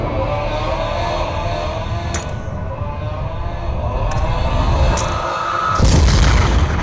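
A grenade goes off in a slow-motion Black Ops 2 video game cinematic. A low, rumbling game soundscape with a few sharp ticks builds into a loud, heavy boom near the end.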